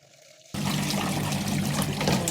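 Water suddenly gushes out of a draining Hisense 11kg semi-automatic washing machine, starting abruptly after a brief quiet and then pouring steadily and loudly, close by with no speech.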